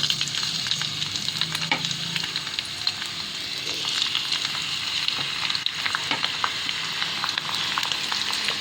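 Cabbage and paneer sizzle in hot oil in a pan, a steady close crackling fry with occasional stirring scrapes and no talk.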